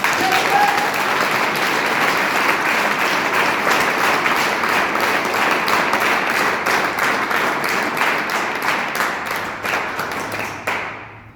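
An audience gives sustained applause at a talk, a dense and even roar of clapping that runs for about eleven seconds and fades briefly at the end.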